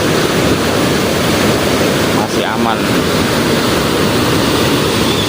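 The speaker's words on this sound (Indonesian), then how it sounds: "Aliran sungai sangat deras sekali guys, tapi guys ini buangan dari bendungannya nih" Swollen river water released from the Lemah Abang dam after three days of rain. It makes a continuous, loud, roaring rush close by, with wind buffeting the microphone and a brief voice speaking over it.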